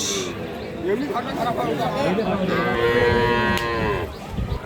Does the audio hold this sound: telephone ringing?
no